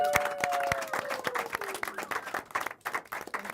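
An audience at a jazz band's live performance claps for the bass player, a moderately sized round of applause with distinct individual claps, fading slightly toward the end.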